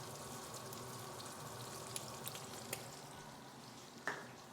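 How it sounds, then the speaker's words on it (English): Steady, faint crackling sizzle of bacon frying in a pan, with a few sharper pops and spatters standing out; no voices. "While our bacon is frying and getting some color"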